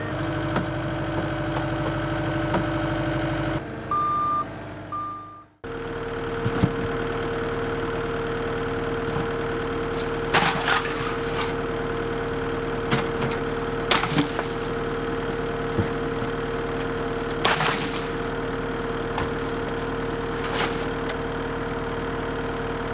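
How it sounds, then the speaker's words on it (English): A sawmill runs with a steady engine drone and a low hum, broken by a brief pause and by sharp, scattered cracks and clunks as wood is cut. "for the rest of it we'll be firing up the sawmill again"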